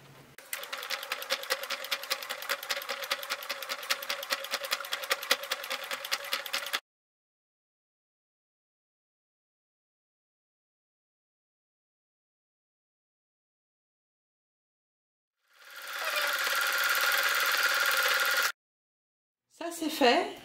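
Sewing machine stitching clear PVC vinyl and fabric for a pouch, a fast, close, even rattling run that stops for a long silent pause and then starts again briefly, with no talking.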